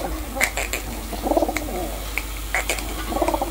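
Pigeons coo in soft repeated bursts, close by, with faint chirps mixed in and no talking over them.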